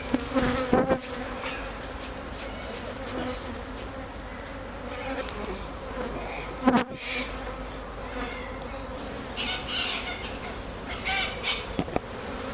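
Honey bees buzz in a steady close drone as a swarming hive is opened, a continuous insect hum with a few sharp knocks and clicks and occasional crow caws in the distance.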